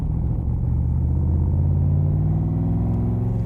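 A car with a 427 stroker engine and 5-speed transmission idling close by, a deep steady rumble that holds even and loud throughout with no voices.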